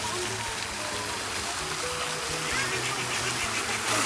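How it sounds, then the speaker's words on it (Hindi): A water pump runs outdoors, pouring water for irrigation with a steady, loud splashing rush like a stream, continuous throughout with no talk. "वहाँ पंप चालू है"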